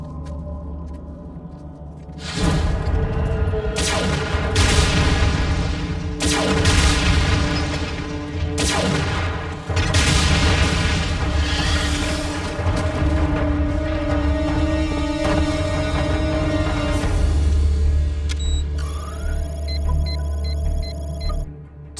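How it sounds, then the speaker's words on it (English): Rapid volleys of cartoon blaster suppression fire from Transformers Prime robots, loud sustained bursts with repeated booming impacts and electronic zaps over a low rumble, continuing for most of the stretch. "Suppression fire only."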